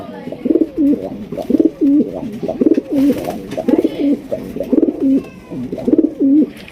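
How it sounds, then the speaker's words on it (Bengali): Racer pigeons at a pigeon farm coo loudly and close by in repeated rolling phrases, several overlapping birds calling in a steady rhythm with no talk. "এগুলো হচ্ছে রেসার কবুতর"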